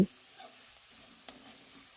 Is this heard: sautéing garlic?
yes